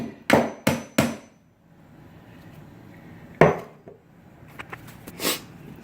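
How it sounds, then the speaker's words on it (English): Three sharp hammer blows ring out in quick succession, knocking nails through a wooden stair tread, then a pause and more scattered knocks on wood, close and loud. "take a hammer and just knock these nails through to the other side"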